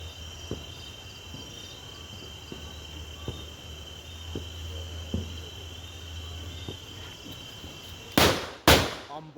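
Two tied firecrackers exploding close by at a Nepali celebration, two sharp loud bangs near the end, preceded by steady insect chirring and faint clicks.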